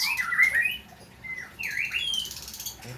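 White-rumped shama (murai) chicks, three nestlings just taken from their nest, give short high squeaky chirps in two bursts, close and fairly loud with a brief gap between.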